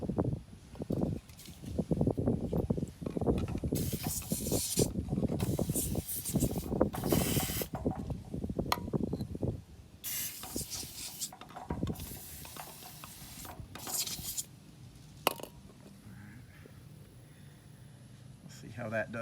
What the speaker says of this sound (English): I just need to spray them down really good